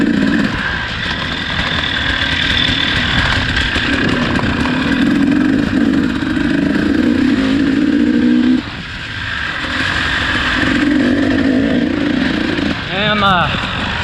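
A Honda four-stroke motorcycle ridden hard on a time trial lap: a loud, close engine drone that rises and falls with throttle, briefly dipping midway before a quick rev burst near the end.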